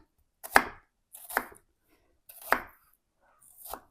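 Green onion chopped with a knife on a board, four separate close chops spaced about a second apart, with silence between them and no talking.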